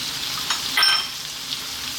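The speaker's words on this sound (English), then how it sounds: "We're now going to drop in our chopped onion, our garlic ginger paste" Chopped onion and a garlic-ginger paste hitting a hot pan for a vegan sweet potato coconut curry, a soft, steady sizzle with a brief louder burst as the ingredients go in.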